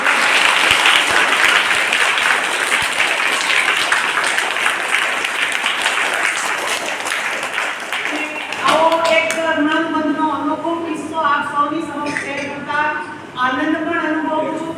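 Loud, dense applause from an audience at a village gathering in Medi honoring a donor, filling the first eight seconds before giving way to a voice and tonal sounds.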